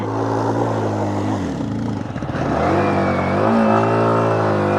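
An off-road vehicle on a steep hill track near Munnar and Vattavada revs hard and strains to climb, its loud engine rising and falling in pitch as it labours, close and continuous.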